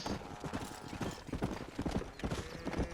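A horse's hooves beat out a quick galloping rhythm in the video game Red Dead Redemption, steady and moderately quiet clip-clops under a faint background with no clear talking.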